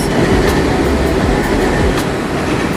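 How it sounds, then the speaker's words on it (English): A train rolls past close by with a steady, loud rumble and faint clickety-clack of wheels that continues unbroken throughout, with no voices. "let me wait till the train pass"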